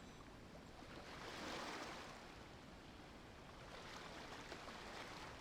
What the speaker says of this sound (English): As the sound of water is in the background the entire time.